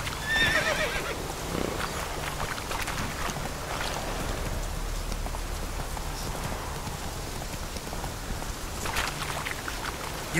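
Horse Roach from The Witcher 3 gallops with steady hoof clatter and neighs near the start, over a constant rain-like hiss, with no talk.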